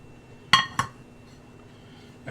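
Metal pan set into an oven beneath baking dishes of eggs, giving two sharp close metallic clinks in quick succession, then a softer clatter after a short quiet pause.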